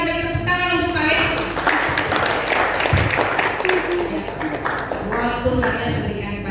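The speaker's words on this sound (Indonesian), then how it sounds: "kita beri tepuk tangan untuk Pak Lex." Audience applause rings out at a teachers' technical training workshop after a presentation on innovative teaching models, a dense, steady clatter of many hands clapping throughout, heard under continuing speech.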